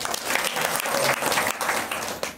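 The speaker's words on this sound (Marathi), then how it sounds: "त्याच्यासाठी आपल्या टाळी वाजवा" A devotional gathering's audience claps together in a dense, sustained burst of applause that stays loud and even throughout, with a few slight swells.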